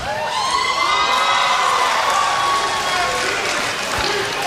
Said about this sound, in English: Why are you cheering him?